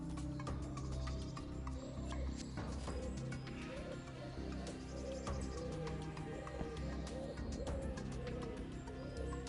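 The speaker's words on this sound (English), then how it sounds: "Those bird sounds in the back are killing me." Birds chirp and coo steadily in the background ambience of the video game X-piratez, mixed with a dense, continuous layer of game sound and no talking.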